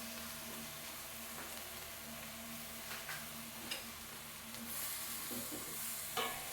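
Chayote, ground beef and mushrooms sautéing in a pan, a steady low sizzle with occasional soft stirring clinks and scrapes, moderately close and fairly quiet throughout.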